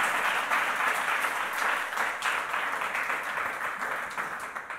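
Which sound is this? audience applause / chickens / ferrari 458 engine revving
audience applause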